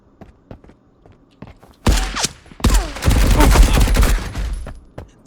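AI enemies in a video game open fire on the player: after scattered footsteps, bursts of dense, loud gunfire break out and continue as rapid, overlapping shots.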